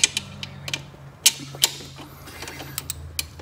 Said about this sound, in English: So I'm just gonna put the socket on the number 12.